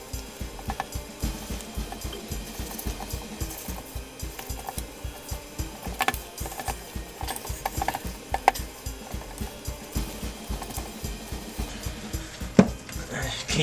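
Thick gingerbread mixture being folded and mixed off the stove, a steady run of soft rubbing, scraping strokes against the bowl, close and fairly quiet, with a louder knock near the end.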